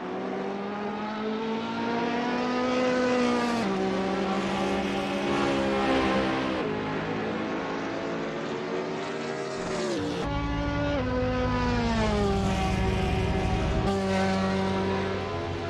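Ferrari 458 and other GT race cars lapping Mugello in the Assetto Corsa racing sim, engines howling steadily at high revs with repeated pitch drops on upshifts and downshifts, loud and continuous throughout.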